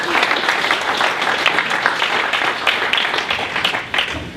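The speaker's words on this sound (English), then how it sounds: "So once again, everybody, round of applause for Mr. Scott Gosey." Audience applause at a holiday tech pitch competition: a dense, steady round of clapping from a crowded room that holds for several seconds before easing slightly at the end.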